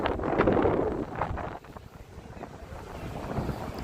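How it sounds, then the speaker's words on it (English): Gusty wind buffets an outdoor microphone on a Las Vegas street, loud rumbling bursts at first that ease into a steadier, softer roar. "Except the wind is freaking flipping"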